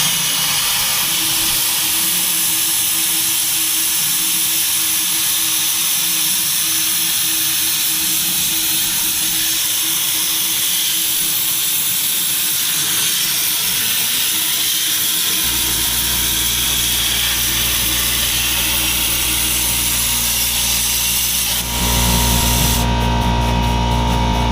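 A CNC plasma cutter slices steel shock-mount brackets with a loud, continuous hissing roar that later settles into a steady humming drone, with no talking.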